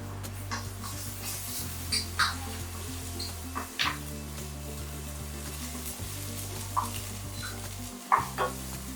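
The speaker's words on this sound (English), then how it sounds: "Once the oil is hot, I will be adding in my cumin or jeera seeds. Allow it to splutter." Cumin (jeera) seeds spluttering in hot oil for Amritsari chole, with a soft sizzle, scattered quick crackles and pops, and a few stirring clinks over a steady low hum.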